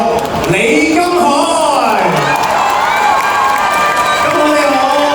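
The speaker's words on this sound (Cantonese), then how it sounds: "俾多啲掌聲" A crowd at a fan meeting for a middle-aged singing contest cheers as a contestant steps onto the stage, with loud whoops and shouting voices and some clapping underneath.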